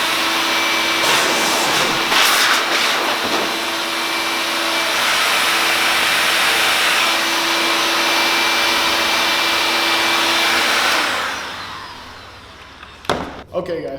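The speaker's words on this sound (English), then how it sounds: "Now we're gonna go to the turbo blower." A turbo blower car dryer runs close and loud for drying a vehicle, a steady high whining rush that holds for about eleven seconds and then winds down, followed by a few light knocks.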